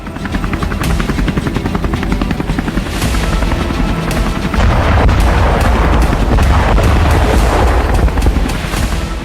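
A Russian military helicopter over the Black Sea, its loud, continuous rotor thump close and dominant, with heavy booming bursts of gunfire or explosions mixed in and no talking.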